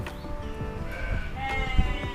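Sheep bleat on a farm holding over 400 animals, several overlapping calls rising and falling against a busy background of flock noise, close and fairly loud.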